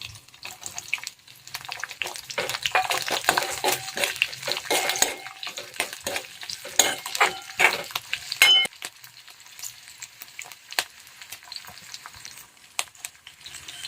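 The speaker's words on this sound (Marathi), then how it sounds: "तर आता हे सगळं मिश्रण छान असं चार ते पाच मिनटं तळून घ्यायचं व्यवस्थित" Garlic, green chillies and mustard seeds fry in a pan over low heat, giving a crackling sizzle with spoon scrapes and small clinks of the pan, close and fairly quiet, fading toward the end.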